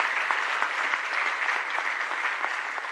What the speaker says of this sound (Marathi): टाळ्या तर छान वाटतात,